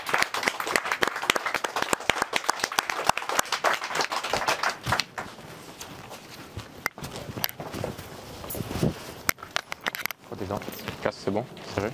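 Scattered clapping from a boxing event crowd, loud individual claps early that thin into sparser, irregular applause, with talking mixed in.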